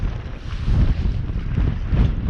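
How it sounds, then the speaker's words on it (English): Strong wind buffets the microphone beside a still-water fishing lake in the UK, a loud, gusting low roar with rising and falling surges and no voices. "That wind is getting stronger."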